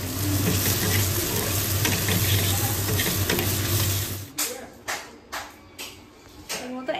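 Chopped tomato pieces sizzle loudly in a hot pan for a fish gravy, a steady close frying hiss that cuts off abruptly and gives way to several sharp stirring scrapes and clatters.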